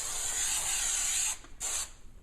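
Spray can of adhesive sprayed liberally onto the edges of a motorcycle saddlebag liner, a loud steady hiss that cuts off briefly and resumes for a short second burst.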